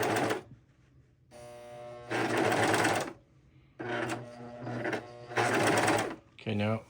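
A foot-pedal sewing machine stitching fabric runs in several close, loud bursts of rapid mechanical whirring, stopping and starting about every second or two, with people talking in between.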